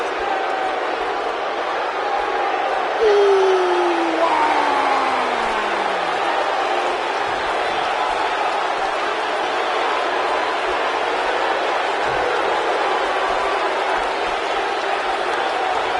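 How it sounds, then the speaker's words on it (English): Constant roar of a large crowd filling a WWE 2K19 wrestling arena in Philadelphia during a Hell in a Cell match, a steady dense wash of cheering noise throughout with a whistle-like sliding tone briefly audible. "We've got a raucous crowd here in Philadelphia tonight"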